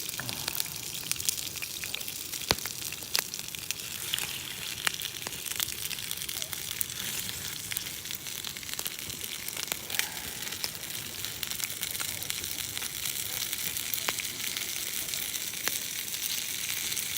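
Coconut oil sizzling and crackling over an outdoor bushcraft cooking fire, a steady bright hiss with scattered sharp pops, fairly quiet and heard alone.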